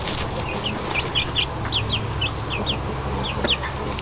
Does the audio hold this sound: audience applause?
no